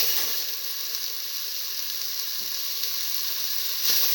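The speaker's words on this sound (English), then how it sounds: "Put in half of the mint leaf" Mint leaves sizzle in hot oil, cooked with scrambled egg and tomato for rice, a steady close crackling hiss with no pauses and a slight swell near the end.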